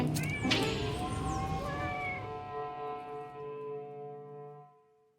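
Cats meowing close by: several drawn-out, wavering meows in quick succession, the last one trailing off into quiet.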